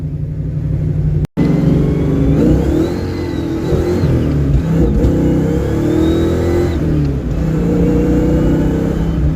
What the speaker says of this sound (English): We just absolutely blew the tires off and went a little sideways in second gear.